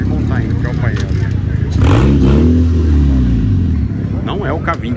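A car engine revs up, rising and falling in pitch over a few seconds, loud and close, with brief mechanical clatter before and after.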